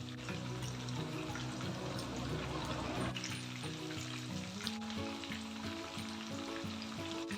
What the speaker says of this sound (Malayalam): ഇനി നല്ലപോലെ എണ്ണ തിളച്ചിട്ട് നമുക്ക് ചിക്കൻ ഇടാം